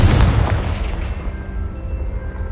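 A Confringo fire spell detonates with a loud, heavy boom in Hogwarts Legacy, the blast hitting at the start and then rolling off into a long, fading rumble with no voices over it.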